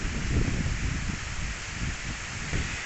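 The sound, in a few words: strong wind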